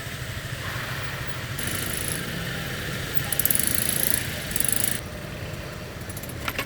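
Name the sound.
motorcycle engine while riding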